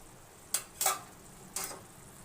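A spoon scrapes through chicken momo filling mixed with salt, pepper, chili flakes and Kashmiri chili powder, making three faint, brief scraping strokes over a quiet background.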